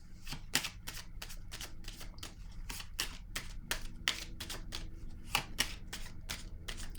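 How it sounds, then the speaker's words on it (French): Tarot cards being handled and laid down on a surface, a brisk run of crisp, papery snaps and flicks close by, with no talking. "Je vais déposer une autre carte ici."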